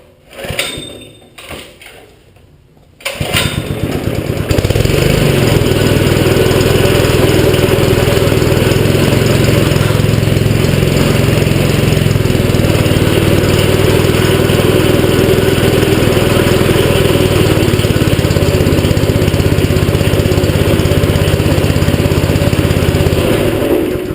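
A Howey shaker model 150 engine, freshly swapped in, starts after a few short pulls and then runs steadily at a loud, even idle that continues alone to the end.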